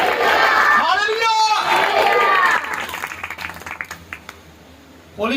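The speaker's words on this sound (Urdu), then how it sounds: "زوردار تالیاں خدا کے روح کے لیے" A church congregation claps loudly and cheers in praise of the Holy Spirit, with shouted voices ringing over dense, sustained applause. The sound then thins to scattered claps and dies down before a short burst returns at the end.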